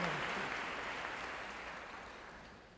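A lecture audience in Washington DC applauds at the close of a talk, a dense, even roar of many hands clapping that slowly fades over a few seconds, with no voices heard.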